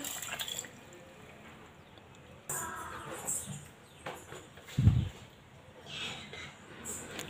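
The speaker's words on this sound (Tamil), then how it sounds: "தேவையான அளவு தண்ணி ஊற்றிக்கிடுவோம்." Water poured in short, uneven bursts into a blender jar with beetroot, carrot, cardamom and sugar for juice, close splashes and drips separated by quiet gaps.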